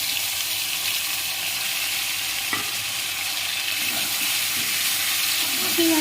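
Meat and spice paste is stirred and fried in a pan, giving a steady loud sizzle with scraping stir strokes throughout.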